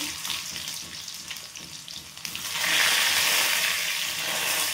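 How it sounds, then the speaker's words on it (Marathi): Mustard seeds, cumin and onion hitting hot oil, a crackling sizzle that suddenly swells into a louder, hissing fry partway through as more goes into the pan. "तेल गरम झालं आपलं, छान राई टाकत आहे।"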